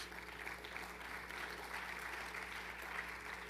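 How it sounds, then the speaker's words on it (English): Applause from an audience at a heritage assembly in Kentucky, a soft, even, continuous patter of many hands heard at a distance over a low steady hum, with no voices. "please give him a round of applause"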